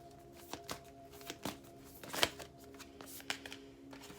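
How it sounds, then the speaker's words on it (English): Tarot cards being shuffled and drawn from a deck, soft scattered riffles and sharp flicks close by, a handful of separate taps over about four seconds, quiet with no talking. "Let me get 2 more cards."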